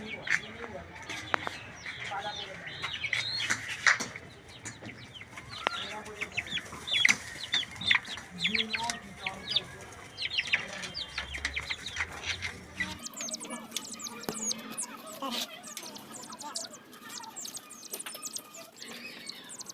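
Caged chickens cluck and chirp nearby in irregular bursts, mixed with scattered bird calls and some background noise.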